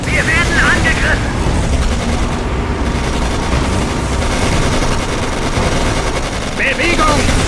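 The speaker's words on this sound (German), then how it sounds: "Wir befinden uns unter Beschuss." Dense, continuous machine-gun fire and explosions from the World War II strategy game Codename Panzers Phase One, loud and close. Brief shouted voices break through near the start and end.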